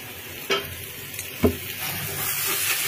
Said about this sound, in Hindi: इसमें हल्दी मिर्च को थोड़ा सा फ्राई कीजिए